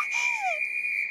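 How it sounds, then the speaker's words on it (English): A very loud old whistle, once lost on an island, is blown in a single sustained shrill tone, with a brief sliding overtone early on, close and piercing for about a second. "Old Rusty, loudest whistle in the world."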